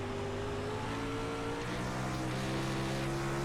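Pack of DIRTcar 360 sprint cars accelerating together at a race start at Bristol, a dense, loud roar of engines climbing in pitch, with no voices.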